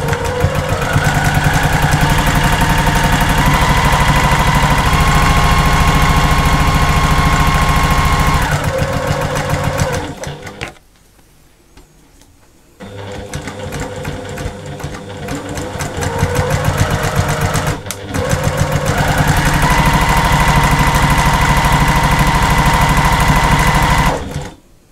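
Sewing machine stitching bag straps in fast continuous bursts, a loud close mechanical whir that pauses briefly midway before running again to the end.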